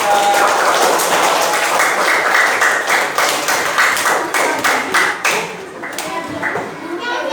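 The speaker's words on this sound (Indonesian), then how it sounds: "Beri aplaus untuk mereka." Schoolchildren in a classroom clap together after a group presentation, a dense run of hand claps that thins out toward the end, with young voices mixed in.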